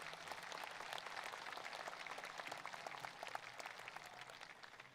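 Applause from the audience at a high school commencement ceremony, faint and distant-sounding clapping from many hands, steady for several seconds.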